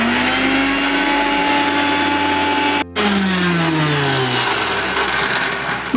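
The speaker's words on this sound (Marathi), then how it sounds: "पुदिना आणि कोथिंबीर हे सगळं व्यवस्थित आधी बारीक करूया" Mixer grinder grinding mint and coriander leaves for a green chicken marinade, a loud steady motor whine that cuts out briefly and then restarts, no talking.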